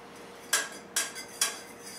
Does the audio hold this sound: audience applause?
no